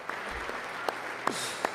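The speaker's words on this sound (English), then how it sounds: "JD Vance hitting the sofa cushion." Sparse, muffled, dull hits on a sofa cushion: three or four soft thumps at uneven intervals, faint and isolated, with no talk.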